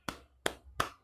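Three sharp, close hand claps spaced evenly about a third of a second apart, crisp and dry, with nothing else around them.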